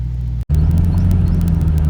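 A 2007 Ford Mustang GT's V8 idles with a deep, steady rumble, close and loud, briefly cutting out for an instant before the idle carries on.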